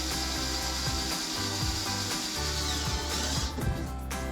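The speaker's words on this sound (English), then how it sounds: "So I'm gonna start drilling this with the top T30 drill bit here" A drill with a T30 bit bores into a wood stud while hanging RedRock door hanger brackets on a Jeep Wrangler, giving a steady close grinding whir that runs almost without pause and cuts out near the end.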